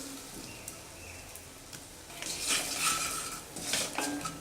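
Turmeric, red chili powder and chaat masala sautéing in a pan for mirchi vada, a soft sizzle with clinks of a spoon against metal, getting busier partway through, without any talking.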